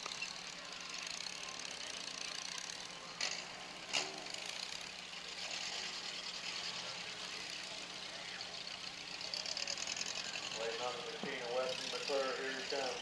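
Demolition derby cars rumble through warm-up laps on a dirt track, a continuous mid-distance engine drone with a few sharp knocks and revving swells near the end, under crowd noise and announcer chatter.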